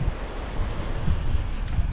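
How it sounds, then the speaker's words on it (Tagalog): Waves washing on a seashore under gusty wind buffeting the microphone, a dense continuous roar with low thumps, no voices. "Nandito minsan sa tabing dagat"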